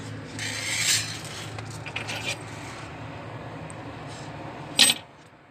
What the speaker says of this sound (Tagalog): May susi pa.